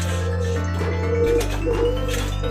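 Homing pigeon back at its coop, cooing softly beneath a loud, steady droning hum that fills the background.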